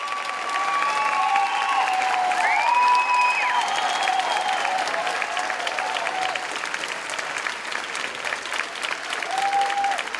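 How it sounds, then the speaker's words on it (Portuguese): A theatre audience at a literary talk event stands in an ovation, sustained loud clapping filling the hall throughout with no talk over it. "Agora podemos ver o público de frente, todos se levantaram e aplaudem de pé."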